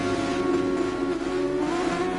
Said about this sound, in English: engine notes are rising, so we'll wait for the lights to go out.